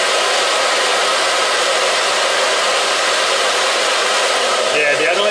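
A hair dryer drones steadily and loudly, powered by a 6000 W low-frequency pure sine wave split-phase power inverter, its broadband whoosh unbroken for the whole stretch with faint handling noise near the end.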